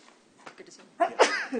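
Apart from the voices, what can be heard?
sneeze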